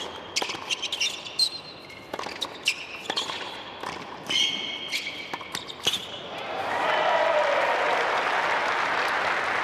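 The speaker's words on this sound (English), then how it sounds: "cue the applause, hold the pose" Tennis match between Tomas Machac and Casper Ruud at the United Cup: sharp ball strikes and squeaking shoes on court, then crowd applause swelling into a broad, sustained roar after the point.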